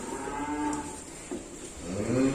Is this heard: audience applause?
no